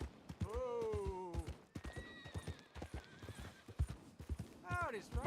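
Horse hooves clip-clop in a steady rhythm while a horse whinnies loudly, with a second whinny near the end, in the Red Dead Redemption 2 video game; a voice talks over the sounds.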